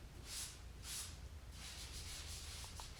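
Hand sanding a drywall corner, with soft scratchy rubbing strokes: two separate swipes, then a longer continuous stretch of rubbing, quiet and close.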